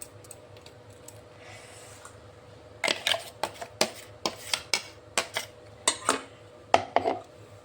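Ground banana stem and shrimp kofta mixture being mixed by hand in a bowl, heard as a quiet run of soft clicks and taps, about a dozen knocks against the dish in a loose rhythm, close and alone.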